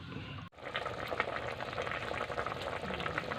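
Coconut milk with mixed vegetables boils and simmers in a pot for ginataang gulay, a steady close bubbling hiss that starts after a brief knock and continues without pause.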